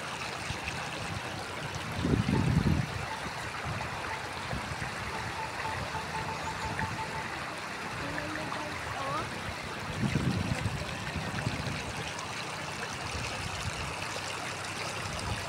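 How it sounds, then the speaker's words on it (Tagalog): A creek near a Mayon volcano quarry site, swollen like a river, rushes with a steady loud flowing roar throughout, and people talk briefly over it twice. "Nagmistulang ilog na itong Sapa."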